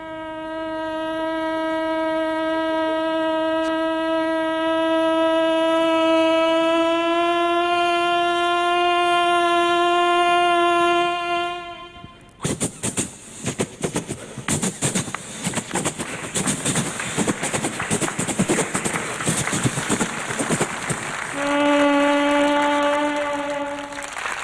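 A voice imitates a long sustained train horn, then a burst of rapid chuffing and clatter as the train departs, ending with another short horn blast.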